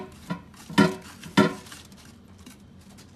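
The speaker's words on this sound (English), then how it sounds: "we're finishing up scraping out all the pumpkin's center" Spoon scraping seeds and pulp out of a pumpkin slice, a few sharp scrapes and knocks at irregular intervals, two louder strokes standing out over quiet background.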